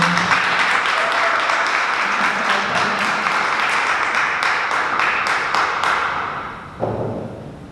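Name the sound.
clapping at a city council meeting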